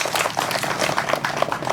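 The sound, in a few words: applause at a loan ceremony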